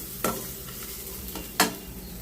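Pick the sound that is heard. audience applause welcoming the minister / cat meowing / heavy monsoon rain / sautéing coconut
sautéing coconut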